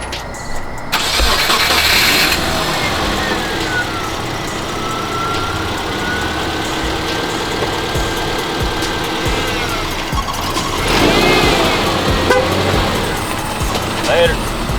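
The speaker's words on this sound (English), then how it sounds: "So I'll record the car while he drives away real quick so you guys can see how it looks." A lowered Subaru Forester starts up and pulls away. Its engine rises, then fades over several seconds before swelling again, with a possible horn honk. People talk near the car throughout.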